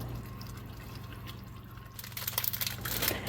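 Spaghetti with heavy cream and fresh basil being stirred together in a pot, quiet at first, then a run of wet, squelchy scrapes and clicks over the last second and a half, with no talking.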